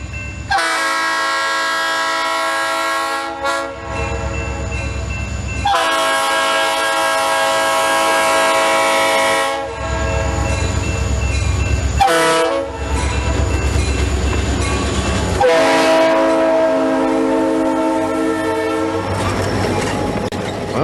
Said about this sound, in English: Well, they got that GP9 started.